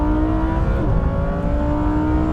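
A Lamborghini, an Audi R8 and a Nissan GT-R accelerate together in a drag race, giving a loud, sustained engine drone with steady rising tones and no one talking.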